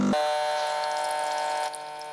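A 15-bar espresso machine runs its pump with a steady tonal hum while water streams out for tea, the sound dropping slightly near the end, close and alone without talk.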